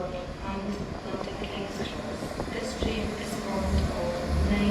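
A Class 173 train runs as empty coaching stock, departing Edinburgh Waverley station: a rumbling, rattling rail noise under a station hubbub that swells gradually louder toward the end, with a voice talking over it.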